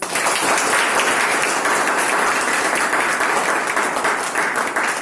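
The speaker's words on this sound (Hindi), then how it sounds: "तालियां बनता है इसकी।" An audience at an Ayurveda company talk bursts into loud, dense applause that holds steady and close for the whole stretch, with no voices over it.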